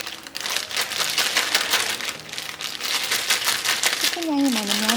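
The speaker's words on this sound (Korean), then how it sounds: "지퍼백에 치킨을 넣고" Chicken pieces shaken with starch inside a plastic zipper bag make a dense, steady crinkling and rustling for several seconds, with a brief voice near the end.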